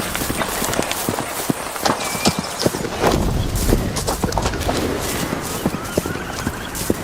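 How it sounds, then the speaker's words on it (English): Kawasaki robotic horse with a man riding it walks along, its feet striking in a steady clip-clop rhythm of hard, close impacts over a continuous background rumble. "That is a man riding it like a horse."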